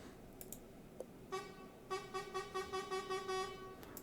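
A truck horn in Truck Simulator sounds in a rapid series of short, bright honks, following a few scattered clicks, fairly loud and close.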